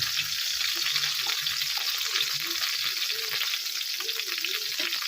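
Eggplant frying in hot oil, a loud, continuous hiss and crackle that stays steady throughout, close up, with faint low background sounds underneath and no speech.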